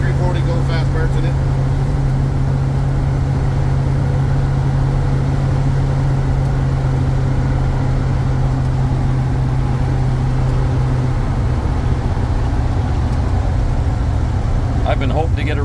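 A 1965 Dodge A100 van with a warmed-up 318 V8 dressed as a 273 and fitted with 340 performance parts, running with a loud steady engine drone throughout and people talking over it.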